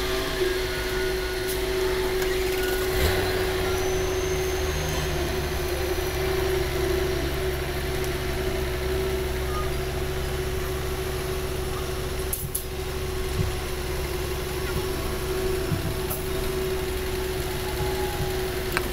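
A forklift raises a 13-metre sandwich panel high off a cargo truck, its engine droning steadily throughout with a constant hum and occasional faint clanks, no talking.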